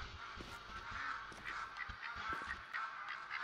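A flock of ducks quacks and honks continuously in the New Zealand setting of theHunter, overlapping calls from several birds close by with no speech.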